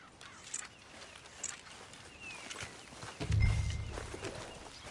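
Horse hooves clip-clop in Red Dead Redemption 2, soft and fairly distant steps over an ambient outdoor bed, with a heavier low thump near the end.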